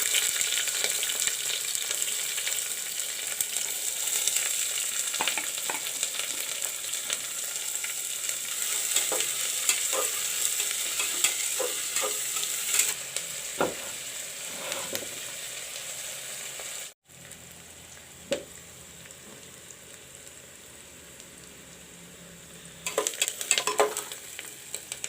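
Onions sizzle steadily in hot oil and are stirred now and then while a razma curry is being made. The frying noise is close and continuous, with a brief break partway through and louder scraping toward the end.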